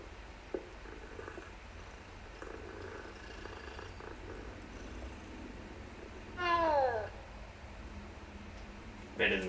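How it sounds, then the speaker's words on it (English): A cat in the Hogwarts Legacy video game purrs softly and steadily in a quiet library, then gives two short, louder meows near the end. "It's a nice cat."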